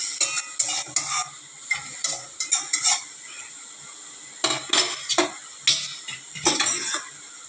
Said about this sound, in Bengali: আর এখন দেখো শাকটা রান্না করব।